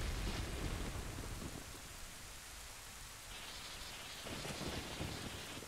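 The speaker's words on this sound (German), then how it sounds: "Donner." Thunder rolls and rain pours steadily in the video game The Legend of Zelda: Ocarina of Time, a dense hiss of rainfall with a deep rumble building and then easing.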